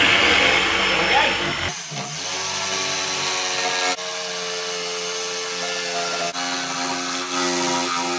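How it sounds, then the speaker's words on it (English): A power saw cuts through material while building a coffee table from an alloy wheel, a loud steady whine holding for several seconds with a brief break partway through. "as I started to cut that, I couldn't really see where my blade was heading along the line"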